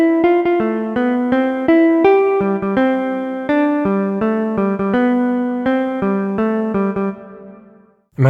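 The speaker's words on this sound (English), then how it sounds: "You take the original melody and play it backwards." The Happy Birthday melody played backwards in retrograde on guitar: a clear run of plucked single notes with steady rhythm, loud and close, ending with a brief pause and a final attack.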